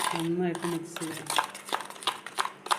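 A utensil clinks and scrapes against a bowl while sugar is mixed into cream bun filling, quick irregular taps and stirring knocks up close, with a voice speaking briefly at the start.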